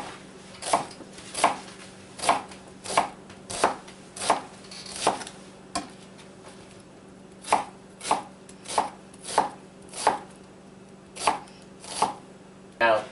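A knife chops fresh garlic on a cutting board in a street food setting, with about fifteen sharp, evenly spaced chops close to the mic and a brief pause in the middle.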